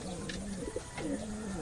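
Racing pigeons coo in a loft, soft rolling low calls overlapping one another, close but fairly quiet against a faint background hiss.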